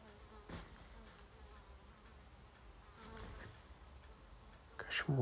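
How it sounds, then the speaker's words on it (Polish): A fly buzzes faintly, drifting in and out in soft swells over quiet background hum, with a louder burst near the end. "Jakaś mucha."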